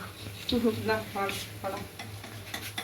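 Onion pakoras fry in a home kitchen with a steady hiss and sizzle of oil, broken by clinking stirring and scraping against the pan. A voice talks quietly underneath.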